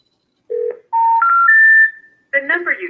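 A telephone number dialed during a real-estate cold call: a short run of clear, loud touch-tone beeps stepping in pitch, followed by a brief burst of tones.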